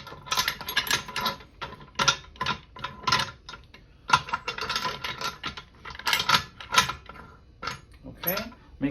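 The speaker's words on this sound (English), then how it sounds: "I'm putting all of these latches onto the pressure pot, and I'm not tightening things up fully just yet" Metal latches being fitted and partly tightened onto a resin-casting pressure pot, a busy run of close clicks, clanks and ratcheting scrapes in irregular bursts, with a voice talking over parts of it.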